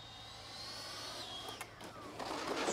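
A Freewing Eurofighter Typhoon 90mm RC jet whines past on a touch and go, its thin turbine tone sweeping down in pitch as it passes, moderately loud outdoors with some background noise.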